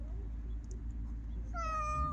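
A pet cat gives a short meow near the end, clear and fairly close, after a quiet stretch of low indoor background hum.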